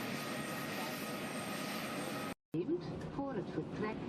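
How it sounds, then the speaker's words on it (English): An airliner's engines drone steadily while it pushes back off a parking stand and taxis toward runway 36L at Amsterdam Airport, a dense continuous roar that briefly cuts out, then resumes with a voice talking over it. "Push back off the parking stand and taxiing to the remote runway 36L."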